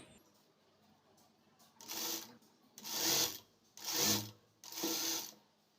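An electric sewing machine stitches a blouse piece in four separate whirring bursts of rapid needle clatter, each lasting under a second, with near silence between them.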